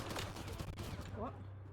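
Rapid gunfire bursts crackle through a firefight in the video game Mass Effect Andromeda, fairly quiet and brief, with a voice speaking over it.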